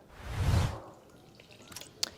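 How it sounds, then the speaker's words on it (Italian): A glass of ammonia poured into a bucket of warm water, a short soft liquid splash and gush near the start that fades out, followed by a few faint drips and one small sharp knock; no talk. "metto un bicchiere di ammoniaca"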